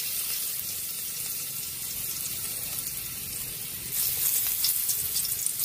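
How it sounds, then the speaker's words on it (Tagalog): Garlic sautéing in hot cooking oil for the Filipino vegetable dish pinakbet gives a steady, soft sizzle that grows louder and crackles more brightly partway through, with no voices. "Magigisa na po tayo para sa ating pinakbit."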